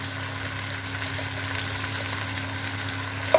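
Coriander and cumin powder masala frying in a pan, giving a steady, close, even sizzle with no pauses and no talking.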